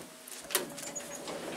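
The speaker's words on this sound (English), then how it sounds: "It's got to be opened up over here with the two-speed door." A Stannah elevator's two-speed sliding door in a bingo hall in Banbridge opens with a quiet mechanical hiss and a brief clack, faint against the background.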